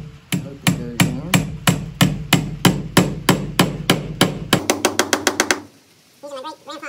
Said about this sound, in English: Using my great-grandpa's hammer,